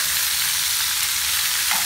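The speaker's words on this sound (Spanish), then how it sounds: "Con el aceite que quedó del pollo." Onion, garlic and bell pepper frying in oil left over from cooked chicken, giving a steady, dense sizzle with no break, close and fairly loud, and no voices.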